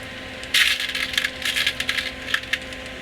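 Small nickel-plated hollow brass beads click and rattle against each other in quick, light bursts, close up and alone, while being threaded onto a muskie bucktail lure during tying.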